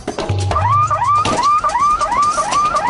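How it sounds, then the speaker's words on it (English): A loud alarm wails alone in steady repeating rising sweeps, each cycle about half a second, piercing and close. "Just hit the alarm. The hell with this noise."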